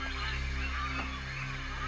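Agitated birds call continuously and close by, disturbed by a tree being cut nearby, with honking, goose-like cries over a steady tonal background and no talking.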